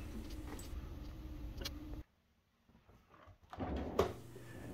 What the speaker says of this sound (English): take the top drawer, push it all the way back, lift it up, and then pull it forward and out